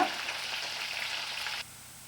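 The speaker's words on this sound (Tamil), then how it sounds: "இது நல்லா பொரியட்டும். பூண்டு பொன்னிறமாக ஆகிற வரைக்கும் வதக்குங்க." Garlic and curry leaves fry in hot oil for a green chilli pickle, a steady close hissing sizzle that drops abruptly to a faint background near the end.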